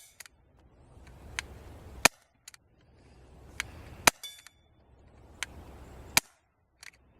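Smith & Wesson M&P airsoft pistol firing at a range, three sharp, loud single shots spaced about two seconds apart, each with a fainter mechanical click nearby and low rumbling handling noise between them, no talking.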